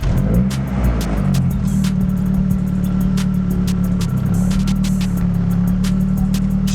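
Tuned car engine running steadily after an ECU map change, a loud constant drone with a strong low hum, heard up close with faint ticking and clicks on top.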